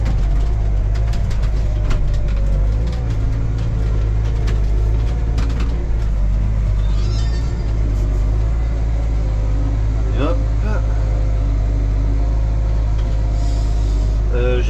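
A tractor pulls a stubble cultivator across a ploughed field, its heavy engine droning loud and steady with rattling and clanking from the implement, while a voice talks over it.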